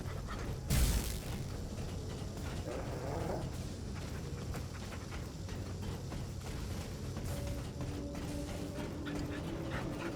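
A dog companion in the video game Remnant II pants and whimpers softly and steadily, quiet and continuous under a low game soundscape, with a brief thump early on.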